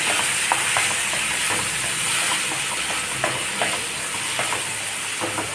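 Tomatoes fry in a pan for a bachelor-style biryani, a loud continuous sizzle with frequent ratcheting scrapes and taps from the stirring spoon, close up with no talk.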